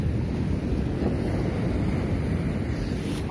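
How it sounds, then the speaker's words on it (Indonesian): Wind buffeting the microphone over a steady wash of surf on a white-sand beach where fishing boats sit, a continuous loud roar with no talking. "Nah, ada pantai pasir lah."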